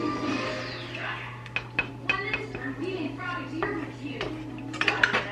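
A spoon stirs a sauce with soy sauce in a pot, making a few irregular metallic clinks and scrapes against the pot, while someone talks nearby.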